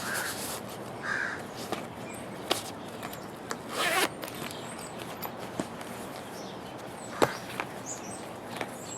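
Zipper on a brown case for lace knitting needles, a few quick zipping bursts and soft rubbing handled up close, with faint background noise between.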